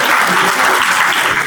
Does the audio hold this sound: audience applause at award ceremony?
yes